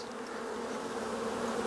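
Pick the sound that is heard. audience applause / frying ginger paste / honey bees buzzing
honey bees buzzing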